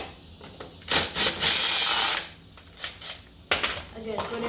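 A power drill spins a nut loose on an ATV wheel during a home tire change, with a couple of short whirring bursts separated by pauses and quieter handling noise.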